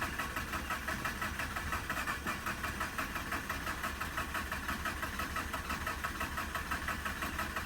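A Mazda RX-8 rotary engine cranking and failing to catch after shutting off while parking, giving a steady, rapid, pulsing starter-and-engine chug that holds at an even level throughout, with no voices.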